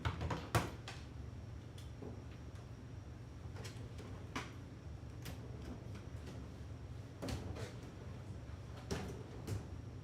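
Several quiet knocks and clicks of drawers being opened and shut while searching for the right one, indoors at a Wild West-themed company retreat, scattered irregularly over a faint steady hum.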